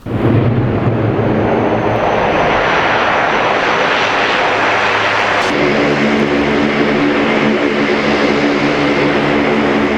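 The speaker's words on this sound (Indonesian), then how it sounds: "video pesawat bomber Amerika Serikat mendarat di Timur Tengah" A US bomber aircraft lands at a Middle East base, its engines roaring loud and steady for the whole stretch, with a broad rushing drone that shifts partway through as the engine tone changes.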